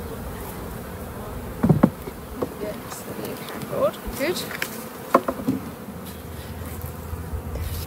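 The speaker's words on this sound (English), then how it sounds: "It's just the flying bees coming back from foraging" Honeybees buzzing steadily around a hive after a shook swarm, a dense insect drone with scattered louder passes of individual bees near the microphone and a brief spoken word.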